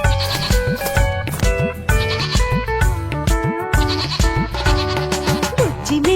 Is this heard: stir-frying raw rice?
no